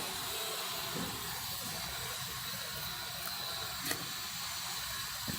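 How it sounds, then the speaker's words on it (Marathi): Chopped onion frying in hot oil with whole spices for chicken biryani, a steady broadband sizzle and hiss running evenly throughout at moderate level, with a couple of brief sharper crackles. "कांदा आपल्याला चांगला परतून घ्यायचा तेलामध्ये."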